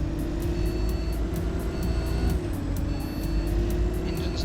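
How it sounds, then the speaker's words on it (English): A bus engine rated at 180 horsepower, driven in the OMSI 2 simulator, drones steadily and loud throughout, with a brief dip in pitch midway as the load eases before it settles back into its constant hum. "Engine's not bad. It just doesn't sound like it develops 180 horsepower."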